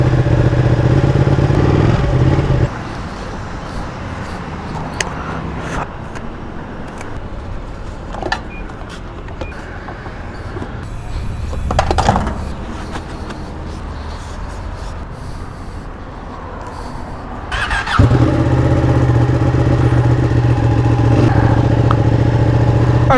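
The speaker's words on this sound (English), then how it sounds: "I own the 959, I'm riding it right now." A Ducati Panigale 959 motorcycle ridden at steady speed, a loud continuous engine drone with wind rush, easing off to a quieter cruise before the engine note swells back up near the end.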